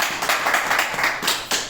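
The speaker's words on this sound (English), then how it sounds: "Can we get a hand clap for keeping our ladies dry?" A small group claps hands during a sanitary pad delivery and demonstration, a quick run of close, fairly loud claps in uneven rhythm, lasting under two seconds with no speech.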